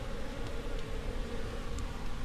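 Honeybees buzz steadily around a hive in Baybay City, Philippines, while ants swarm and attack it, a dense continuous drone of many wings close by with no voices.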